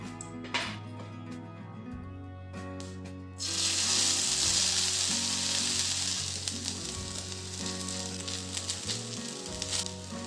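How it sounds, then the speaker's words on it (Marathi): Sweet potato pheni fries in ghee, the sizzle jumping suddenly louder as the piece goes into the pan and then holding as a steady close crackle, with a low hum underneath. "अशा पद्धतीने आपण आता फेणी भाजून घेऊ."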